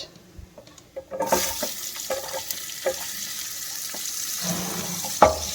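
Onions go into hot oil in a pan for dry fruit rice. After a quiet second, a sudden sizzle bursts out and settles into a steady crackle, with a few stirring clinks and a sharp clatter near the end.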